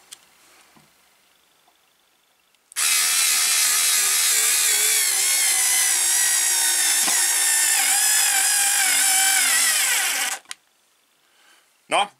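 A SKIL 2710 cordless screwdriver drives a screw into wood in one sustained, strained whirring run of about eight seconds, loud and close, with quiet room sound before and a short burst after.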